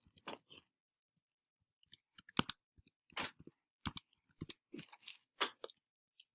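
Computer mouse clicks and keyboard typing in sparse, irregular bursts of sharp close taps separated by silent gaps, with no talking.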